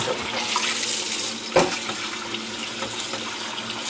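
Running tap water rinsing a Gotham Steel nonstick pan in a sink, a steady close splash and hiss with one brief louder gush partway through, no voices.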